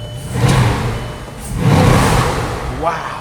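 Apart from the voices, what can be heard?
Rembrandt Bugatti engine revving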